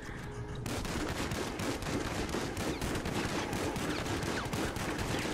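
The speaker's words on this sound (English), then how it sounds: "you're shooting at the body over there" Rapid, dense gunfire in Grand Theft Auto 5, shots fired continuously into a corpse, loud and sustained with bursts running together throughout, with no talking.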